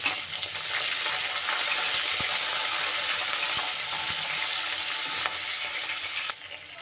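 Cut green chillies sizzle and fry in hot oil for poha chivda, a steady dense crackle with occasional pops, close and loud, easing off near the end; no talk.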